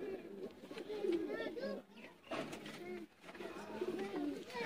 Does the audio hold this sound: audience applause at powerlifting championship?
no